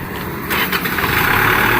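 A Kubota L1-265 four-cylinder tractor engine with power steering cranks and catches, then settles into a loud, rough, close idle with a rumbling drone.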